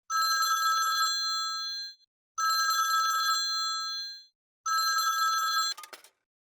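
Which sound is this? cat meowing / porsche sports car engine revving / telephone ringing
telephone ringing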